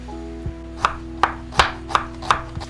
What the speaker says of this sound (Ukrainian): Дві середніх цибулини нарізаємо напівкільцями